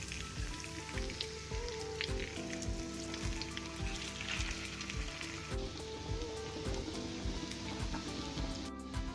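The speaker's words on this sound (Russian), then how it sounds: "Вот сырнички наши на сковороде." Syrniki, Russian cottage cheese pancakes, sizzling steadily in a frying pan, a dense continuous crackle with popping spatters and occasional clinks, no talking.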